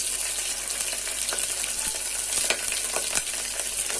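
Sliced onions and green chilies fry in a pan for gongura pachadi, giving a constant close crackling sizzle with scattered sharp pops and stirring clicks, steady and fairly loud.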